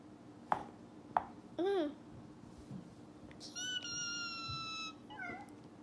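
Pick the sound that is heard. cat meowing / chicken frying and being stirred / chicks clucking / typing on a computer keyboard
cat meowing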